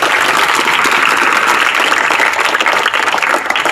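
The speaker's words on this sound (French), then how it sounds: "Applaudissez quand même pour vous." At a sports evangelisation session, a group gives loud, dense, sustained applause from close by, a steady roar of many hands clapping at once.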